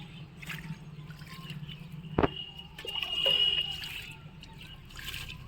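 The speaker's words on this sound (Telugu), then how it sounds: "చెయ్యి అడ్డం పెట్టుకుని వాటర్ పోసుకోవాలండి ఫోర్స్గా పోస్తే మొక్కలు స్ట్రెస్కి గురవుతాయి" Water is poured gently by hand onto freshly planted potted plants in a terrace garden, a soft close trickle and dribble with a brief knock partway through and no voice over it.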